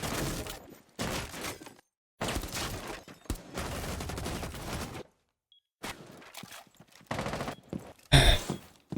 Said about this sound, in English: But he starts shooting at him through the wall.